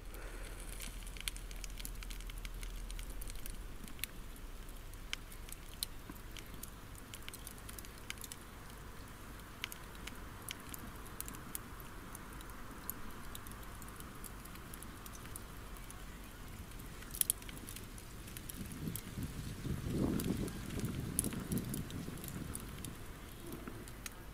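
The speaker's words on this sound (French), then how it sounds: "je vous ai laissé écouter un petit peu le crépitement du charbon" Burning charcoal embers under a pan of braised chicken give a faint, steady crackle with scattered sharp pops over a low hiss, heard alone with no talk.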